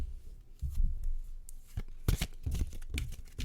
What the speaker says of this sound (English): So I'm going to shuffle.